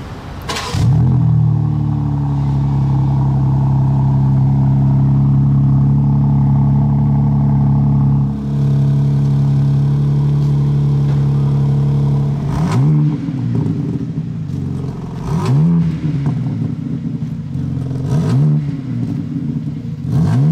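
A car engine rumbles and idles loudly, then revs up several times in quick bursts, the pitch rising and falling with each rev.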